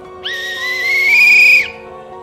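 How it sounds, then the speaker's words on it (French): A single shrill whistle blast, steady and loud, rising slightly in pitch and holding for over a second before cutting off, over a faint background hum. "Un sifflet."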